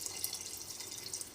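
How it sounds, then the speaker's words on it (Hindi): Water pours steadily over uncooked rice in a pot, a continuous splashing hiss, close and moderately loud, while matar pulao is being made. "पहले आप चावल डालें, फिर ऊपर से आप पानी डालें जितना रिक्वायर्ड हो।"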